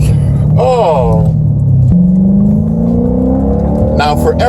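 A 2012 Hyundai Genesis R Spec engine revving as the gears downshift, a rising and falling engine note with a blip between gears, loud and close, under someone talking.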